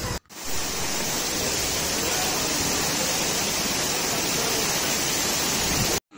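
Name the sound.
waterfall on the road to Sonprayag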